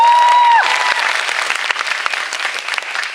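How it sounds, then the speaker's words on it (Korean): Theatre audience applauding at a final-performance curtain call for a Sherlock Holmes stage show, loud and dense, following a brief sustained tone at the start and continuing as steady, close clapping. "그럼 큰 박수 한번 다시 한번."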